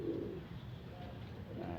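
Pigeons at a loft in the morning give faint, muffled coos, a short call near the start and another toward the end, set back in a quiet, airy space.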